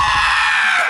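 A shrill, high-pitched taekwondo-style battle cry imitated by a voice, one sustained yell held for about a second, loud and close.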